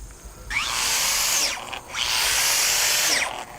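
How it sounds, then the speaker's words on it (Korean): Power drill boring holes in oak logs to plant shiitake mushroom spawn: two loud, sustained whining bursts with the pitch rising and falling as the bit bites into the wood, and a low background hum between them. "나무를 적당한 크기로 자르고 구멍을 뚫어 표고버섯 종균을 심습니다"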